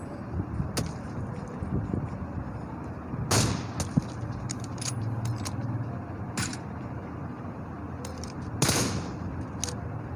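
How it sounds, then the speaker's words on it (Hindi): Gunfire in the PUBG Mobile video game during a squad fight, with sharp isolated shots and a couple of heavier blasts spaced irregularly over a constant background rumble. "ऐसे रज़ा खान फायरिंग करते हुए"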